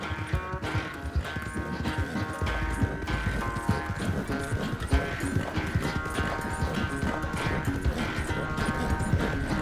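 Horse hooves clip-clop at a steady walking rhythm in the Western video game Red Dead Redemption 2, mixed under a continuous bed of music and ambience, moderately loud throughout.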